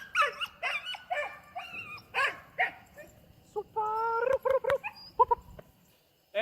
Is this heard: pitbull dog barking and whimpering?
yes